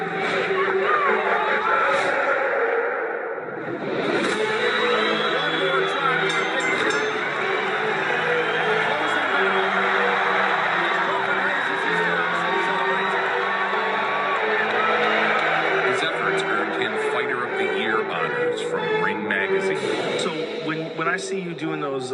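Dense boxing-arena crowd noise, a sustained roar of cheering and excited shouting that stays loud and continuous throughout, with scattered whoops and a brief dip near the start.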